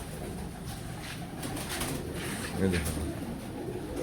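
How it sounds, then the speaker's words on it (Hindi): Teddy pigeons cooing softly outdoors, a low murmur under steady background noise, with someone speaking briefly over them. "कबूतर ही परेशान हो रहे हैं, सारे बाहर बैठे हुए हैं कबूतर"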